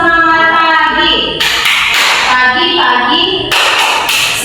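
A classroom group performs the 'tepuk semangat' cheer routine, rhythmic clapping bursts alternating with a loud sung-spoken voice chanting the lines, all close and energetic.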